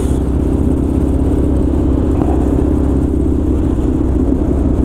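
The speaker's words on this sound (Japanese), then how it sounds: "バイクに乗っているわけです" A motorcycle engine drones steadily and loudly while riding, a constant low rumble with wind noise and no talking.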